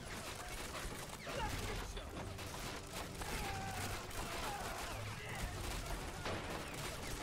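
Dense WWII-era gunfire in the strategy game Men of War Assault Squad 2, a steady roar of overlapping shots and crashes with low rumbling impacts, continuous and loud throughout with no clear talk.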